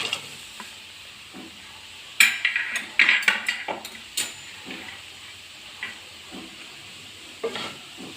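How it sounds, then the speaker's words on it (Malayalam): Fried potato stirred into a hot pan for a potato pappadam fry: soft sizzling, then a burst of spoon clatters and scrapes against the pan midway, fading to quieter stirring, close up with no voices. "ഞാൻ വറുത്ത് വെച്ചേക്കണ പൊട്ടറ്റോ ഇതിനകത്തേക്ക് ആഡ് ചെയ്യാണ് കേട്ടോ."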